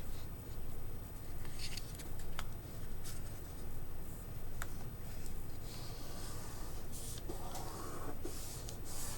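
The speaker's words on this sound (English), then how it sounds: "Then I'm going to take that, I'm going to fold that in half." Paper being folded in half by hand for a zine, a series of soft crinkling and creasing rustles close up, with brief sharp swipes as the folds are pressed flat, quiet and without talk.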